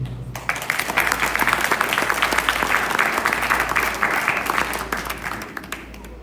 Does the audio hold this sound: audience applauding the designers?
yes